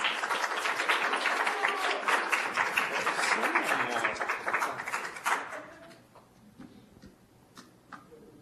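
Warm audience applause welcoming a geoscience speaker at a Johns Hopkins alumni event in Mexico, dense clapping for about five seconds, then fading into scattered claps and room quiet.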